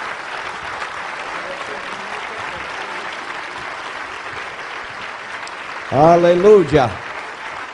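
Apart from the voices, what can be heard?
church congregation applause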